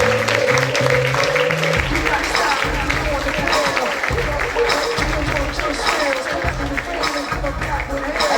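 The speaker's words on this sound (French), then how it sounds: "Et on applaudit." Audience applause at a charity fashion show against cancer, a steady broad wash of clapping from a large crowd running throughout, with murmuring voices and some talk underneath.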